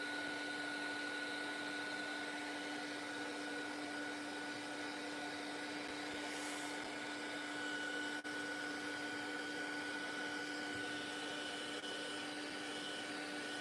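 A heat tool drying a craft journal page in a mixed-media session runs as a steady, close, continuous whirring hum with a high whine, unbroken for the whole stretch, without talk.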